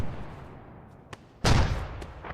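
Gunfire in Arma 3 during an infantry operation at a tree line: a faint distant shot, then a single loud booming report with a rolling tail, followed by another faint crack.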